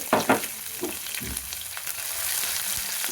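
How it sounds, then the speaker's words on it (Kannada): Finely chopped medium onions and a few curry leaves hit hot oil in the pan for a brinjal curry, with a couple of sharp spitting bursts at first that settle into a steady close sizzle. "ಹಾಕಿ ಇದನ್ನು ಫ್ರೈ ಮಾಡ್ಕೊಳ್ಳಿ"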